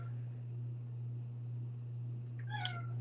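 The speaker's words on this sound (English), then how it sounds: "Let's say she's meowing." A single short cat meow rises near the end, faint and somewhat distant over a steady low electrical hum, with no talking around it.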